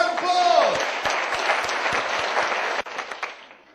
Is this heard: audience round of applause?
yes